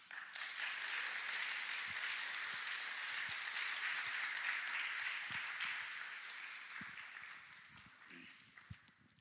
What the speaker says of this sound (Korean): 우리 연합장로교회 따뜻한 박수로 맞이하여 주시면 감사하겠습니다